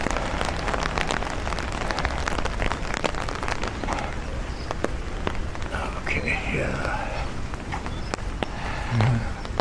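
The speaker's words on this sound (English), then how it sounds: "I need to get out of the rain" Steady rain patters on a street in a middle-class neighborhood in the Philippines, a dense, continuous hiss close by, with faint footsteps and traffic beneath it.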